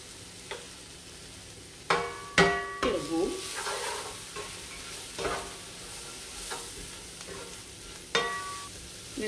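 Chicken pieces, onion, sweet paprika, ground caraway and salt fry in oil in a pot, giving a constant sizzle broken by several loud spoon scrapes and clanks against the pot, close up, with no talk.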